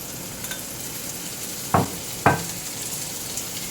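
Tomatoes hit a hot pan of garlic shrimp and kale, giving two short, sharp sizzles about half a second apart over a quiet background hiss.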